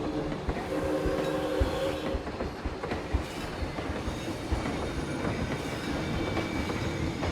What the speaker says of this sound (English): Maybe this train is not going fast enough.